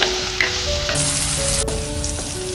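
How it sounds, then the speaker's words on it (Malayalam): Ingredients for Idukki-style fish curry sizzle steadily in a hot pan while being stirred and sautéed with salt, a close, continuous frying hiss with occasional scrapes and clicks and no voices. "സ്വല്പം ഉപ്പും കൂടി ഇട്ട് നമുക്ക് ഇളക്കാം."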